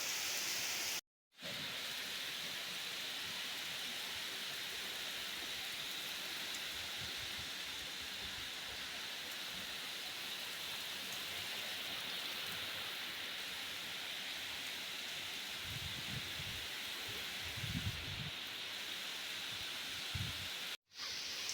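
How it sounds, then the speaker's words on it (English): Steady rain falls continuously, a dense hiss of drops with occasional low thuds, broken only by two brief moments of silence. "thank God for the rain, huh?"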